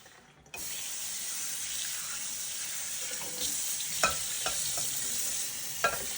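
Soaked sticky rice strained in a sink while tap water runs over it, a steady close hiss of flowing water with a few clinks and knocks of the strainer.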